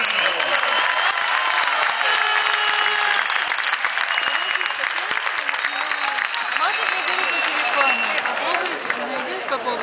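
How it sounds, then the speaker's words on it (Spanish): A large crowd at a Davis Cup semi-final between Israel and Spain gives loud sustained applause for tennis player Juan Carlos Ferrero, dense clapping mixed with cheers and scattered voices throughout. "un fuerte aplauso para nuestro Juan Carlos"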